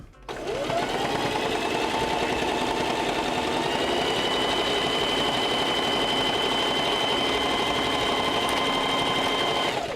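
A sewing machine stitches steadily at a constant fast speed, a loud close mechanical whir that starts abruptly and runs without pause for the whole stretch, with no talking.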